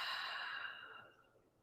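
A single soft, breathy exhale trails off quietly over a second and a half, taken as part of a guided deep-breathing exercise.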